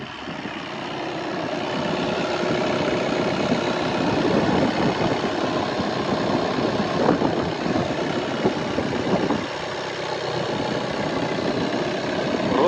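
A 2014 Skoda Octavia A7 engine idles steadily and smoothly, a continuous even hum with no voices, holding at a constant level throughout.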